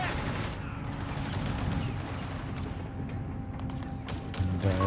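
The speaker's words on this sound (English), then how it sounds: "Maybe he's forgotten about the machine gun that's over here." Distant machine gun fire and scattered battle noise from a 1v1 Company of Heroes 3 match between Afrika Korps and US forces, a steady dense clatter of bursts and thumps over a continuous rumbling background.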